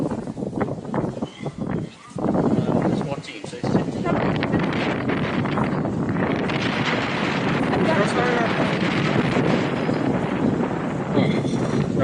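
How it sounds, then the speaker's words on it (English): Strong wind buffets the microphone on a beach at Yorkeys Knob where kite surfers ride, a loud, continuous roaring rush with gusts, while people talk briefly near the start. "The wind is coming from that there."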